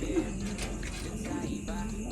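Pigeons coo softly in a rooftop loft where homing birds are kept, a few low murmuring calls rising over a constant background hum, with no talking.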